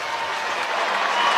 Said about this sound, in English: There's the warm round of applause as the Pies walk down the race.